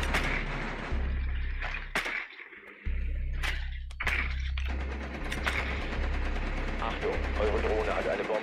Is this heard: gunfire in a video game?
yes